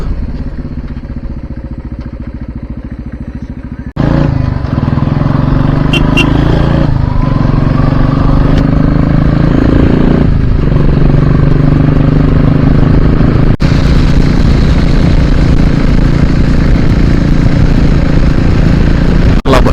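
A motorcycle engine drones steadily while riding along the ECR road near Chennai, loud and close with wind rush, the pitch rising and falling as the rider accelerates and eases off, with no talk.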